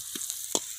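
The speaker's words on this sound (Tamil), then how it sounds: "இப்போ பட்டை கிராம்பு ஏலக்காய் அதுக்கப்புறம் பச்சை மிளகாய் வெங்காயம் போட்டாச்சு" Whole cinnamon, cloves, cardamom, green chilli and onion frying in a pan, a soft steady sizzle with a couple of brief stirring scrapes.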